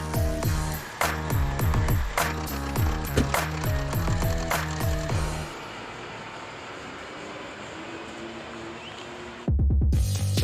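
Ratchet clicking in steady, rapid bursts while a 1949 Ford chassis is taken apart, loud and close, then a stretch of softer workshop rumble before a sharp clatter returns at the end.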